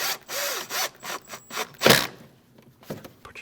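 A Phillips screw being tightened on a Honda CR-V quarter panel splash shield gives a series of short ratcheting clicks and scrapes, close and irregular, with one sharp louder crack partway through.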